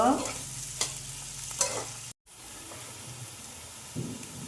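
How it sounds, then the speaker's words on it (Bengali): Chopped onions fry in oil with a continuous sizzle, punctuated by a few soft scraping stirs and a brief dropout midway, close and moderately loud. "তেল দিয়েছি আমি পেঁয়াজ কুচানোগুলো দিয়ে দিব আমি একটু পেঁয়াজগুলো ভেজে নিব"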